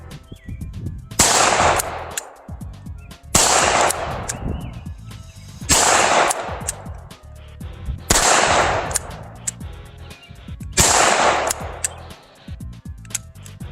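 A Walther PPK .380 ACP pistol fires five loud, close shots at a range, evenly spaced about two seconds apart, each with a sharp crack and a short echoing tail, with no talking.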